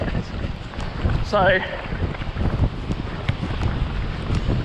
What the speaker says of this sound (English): there's definitely definitely a lot of wind